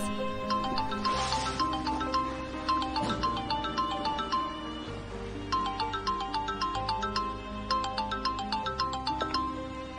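A phone ringtone plays a repeating melodic tune, steady and fairly clear, looping several times with no voices.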